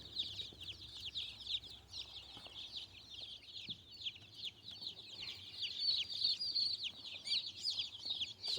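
Meat-bird chickens in a brooder keep up a constant chorus of high, close peeping and soft clucking, busy and overlapping throughout, with faint low background noise and no talking.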